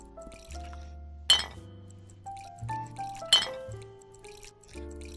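Ice is scooped and dropped into a cocktail shaker at a virtual bar in the Rec Room video game, two sharp glassy clinks with rattling ice over a soft musical background, fairly quiet and without voices.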